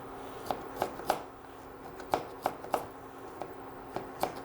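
A knife cutting medium-sized carrots on a board: about a dozen crisp, close chops in small irregular bursts with short pauses between, and no talk.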